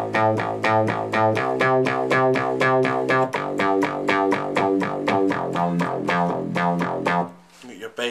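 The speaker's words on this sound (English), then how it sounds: "you got your bass sound." A Roland keyboard synthesizer plays a bass patch in a fast, steady run of punchy repeated notes that stops abruptly near the end.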